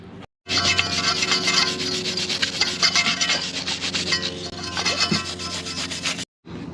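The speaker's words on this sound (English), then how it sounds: "So we're gonna sand all these off so the magnets are nice and clean" Sandpaper scrubbing rust off the magnets of a Toro riding lawn mower, a loud, close, continuous gritty rasping in quick back-and-forth strokes, starting and stopping abruptly.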